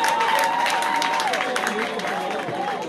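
A congregation applauds during a funeral service, steady continuous clapping from a crowd in a hall, a voice talking or singing over the applause throughout.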